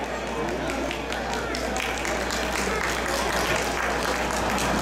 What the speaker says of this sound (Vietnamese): Xin một tràng pháo tay cho thật lớn cho các thầy cô trường Việt ngữ.